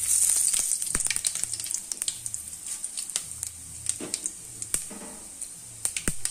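Mustard seeds and cumin temper in hot oil for a rasam, a steady high hiss dotted with many sharp pops and crackles scattered irregularly throughout, close and fairly loud, with no voices.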